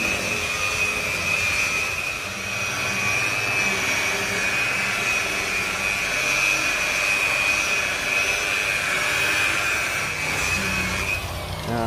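A machine polisher works over a used car's paintwork, a steady high whine with a bright tonal hum and a constant droning motor underneath, running unbroken at moderate loudness with no speech.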